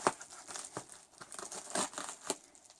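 Parcel packaging is ripped and crinkled open at close range, with soft irregular tearing and crumpling bursts in a quiet room and no talking.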